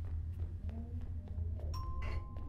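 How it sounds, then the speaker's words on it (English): A doorbell rings inside the horror game Welcome to Kowloon, a short electronic chime over a steady low ambient hum, moderately loud against the droning game background. "There's a doorbell."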